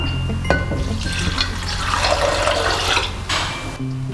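One litre of water pours steadily into a pot for a few seconds, a close, splashy gush with a faint clink at the start and end.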